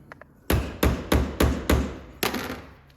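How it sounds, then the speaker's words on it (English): Boot clamps are worked off a Can-Am X3 CV axle with a screwdriver, giving six sharp, close metallic knocks in an uneven rhythm with short ringing tails. "Get these clamps off. Screwdriver under them,"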